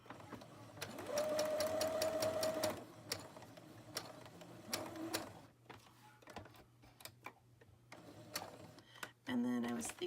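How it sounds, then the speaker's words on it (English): A sewing machine runs a straight stitch along the outside edge of sari silk patchwork pockets on a boho journal, sounding as a steady mechanical whir in several bursts separated by clicks and handling noise, with a final short run. "So on the outside edge, I'm gonna do a straight stitch."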